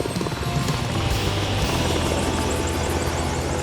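A helicopter flies at Lake Hoare, an old NSF field camp in Antarctica, its rotor and engine a loud, continuous broadband roar that stays steady throughout.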